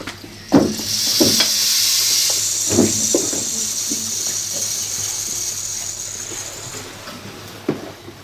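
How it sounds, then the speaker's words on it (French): A rain stick's long trickling hiss of tumbling grains, with a few sharp knocks and clicks at the start, fading gradually with no talking. "Un bâton de pluie."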